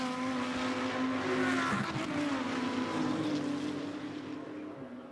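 GT2 race cars accelerating hard at Monza during a Fanatec GT2 Series race, a loud sustained engine roar with rising pitch that fades slightly toward the end.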